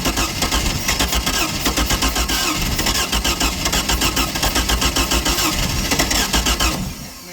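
A 1980s Bronco boat's engine starter cranks with a rapid, steady rhythmic churning that runs loud and close for several seconds, then cuts off near the end.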